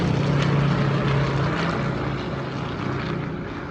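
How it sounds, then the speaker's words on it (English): A helicopter flying overhead during training gives a loud, steady engine roar with rhythmic rotor thumping, strongest at the start and easing slightly as it continues, with no talking. "I want to see what kind of helicopter this is."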